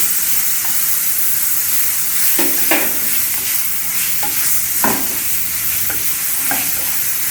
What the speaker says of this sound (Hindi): बेसन भून गया है और हम ये टमाटर डाल देंगे।